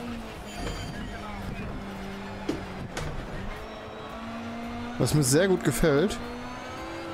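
Lancia Delta HF Integrale Evo in Need for Speed Shift 2, its engine droning steadily at high revs and then surging with rising and falling pitch sweeps near the rev limiter, with someone talking over it.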